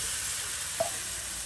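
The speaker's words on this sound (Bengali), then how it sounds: "মাংসগুলোকে এখন কিন্তু ভেজে নেওয়া হবে।" Chicken pieces frying in spices for a white bhuna give a steady, even sizzle throughout, with one brief stirring clink near the middle and no voices.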